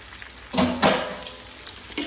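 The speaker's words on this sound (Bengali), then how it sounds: "তো এখন তার মধ্যে আমি দিয়ে দিচ্ছি এই যে মেপে রাখা চাল।" A measured 1.5 kg of rice goes into a hot frying pan, giving two quick bursts of loud sizzling that settle into a softer crackle, then one more short flare near the end.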